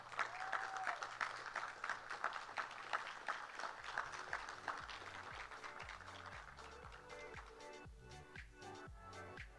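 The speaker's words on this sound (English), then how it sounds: "please stand to give Miss Mika Roy a warm round of applause." A crowd at a Miss Cherokee pageant applauds steadily, dense clapping holding for several seconds, with a few indistinct voices mixed in.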